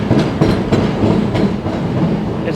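A train rolls across a railroad bridge laid on wooden planks overhead at the Port of Burlington on the Mississippi, giving a steady, loud rumbling clatter of wheels throughout with no talking.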